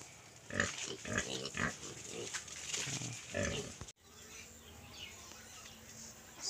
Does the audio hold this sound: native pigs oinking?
yes